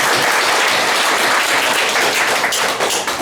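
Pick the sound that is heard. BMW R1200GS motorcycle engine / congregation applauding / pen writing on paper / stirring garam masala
congregation applauding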